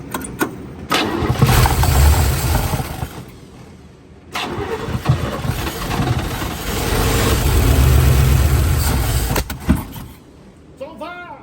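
A 1970 Chevy K10 pickup, parked for 30 years, cranks and briefly runs without fuel, its loud engine churning in two long bursts separated by a pause, with people talking around it.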